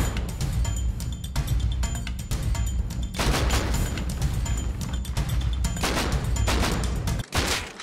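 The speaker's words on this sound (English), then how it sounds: "That was a no-scope shot." Gunfire in the survival game Rust: a near, dense barrage of sharp cracks and impacts that carries on for several seconds, with one sudden dropout near the end.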